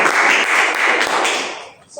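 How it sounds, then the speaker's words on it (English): A classroom audience claps for a student after his presentation, a short burst of dense, close applause that fades out near the end. "Give a applause to Kevin."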